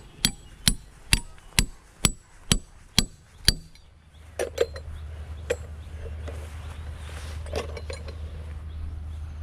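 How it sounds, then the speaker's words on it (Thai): Eight sharp, evenly spaced metallic hammer strikes ring out close by as pegs are driven into a tree for climbing to a bees' nest, then a low rumbling background with a few scattered knocks and clinks. "ตอกไว้ก่อน"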